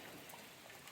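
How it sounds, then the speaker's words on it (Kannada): Heavy rain pours steadily outside a home, a soft, even hiss of drops that stays faint and unbroken with no voices. "ಮಳೆ ಸಿಕ್ಕಾಪಟ್ಟೆ ಬೀಳ್ತಿರೋದ್ರಿಂದ"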